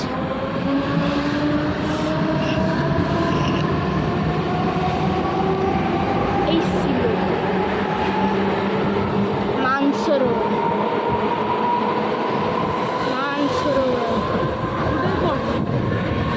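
Continuous rumble and rattle of a moving train heard from inside, steady and loud, with faint voices mixed in.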